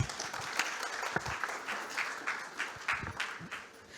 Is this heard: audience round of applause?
yes